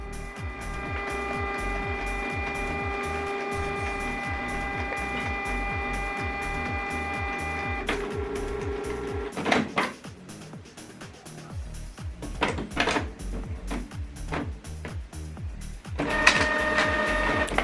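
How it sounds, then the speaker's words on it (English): A printer runs off a 4x6 return label with a steady mechanical whirring and rhythmic clicking of its feed, followed by louder clunks and paper-handling rattles, close and with no talk. "So now this document is printing out in 4x6 size instead of having it full the whole page as A4."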